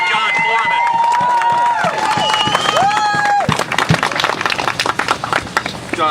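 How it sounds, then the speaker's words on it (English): Audience at a rally outside the Rhode Island ACI opposing a prisoner's release claps and cheers loudly and steadily throughout, mixed with shouts and whistles, close and dense. "And I want a round of applause for John"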